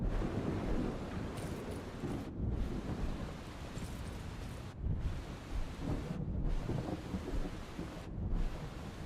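A Chain Lightning spell with lightning clones in the video game VOIN, rendered as a continuous thunderous, rain-like roar and crackle broken by several brief dips into quiet.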